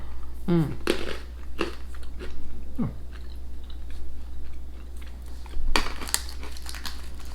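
Close, crunchy chewing of a crisp Indonesian snack, with irregular bites and crackling crunches, a few louder bursts, and no talking.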